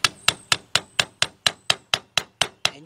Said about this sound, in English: we got our hammer, and that's what you do